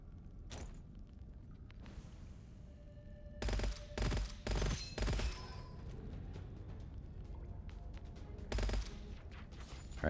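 Rapid bursts of gunfire from the shooter game Gunfire Reborn, several loud clustered volleys and single shots against quieter game ambience, with no talking.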